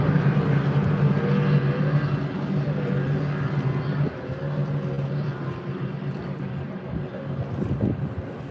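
Racing powerboat engines drone steadily with a buzzing hum, boats running across the water amid gusty wind noise, the sound shifting as they pass.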